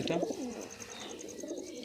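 Pigeons coo in soft, low repeated phrases at close range, heard alone with a faint high steady tone in the background.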